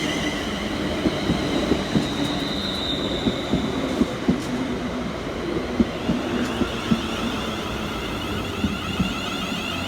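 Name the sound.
Scotrail class 380 train arriving at Paisley Gilmour Street station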